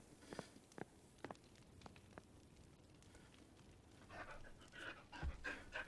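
A dog panting in the video game Pentiment, a faint rhythmic huffing of quick breaths that continues throughout, with soft footstep-like thuds and some crackling near the end.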